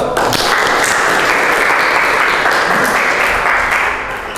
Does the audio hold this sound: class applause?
yes